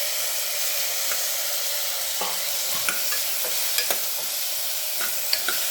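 Cauliflower florets sauté in oil for a cauliflower kurma, giving a steady close sizzle broken by a few light scrapes and clicks of stirring, with no voices.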